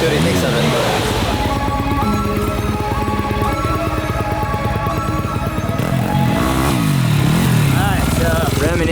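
Race motorcycle at a goat farm, its engine buzzing and revving nearby with rising and falling pitch while people talk loudly over it.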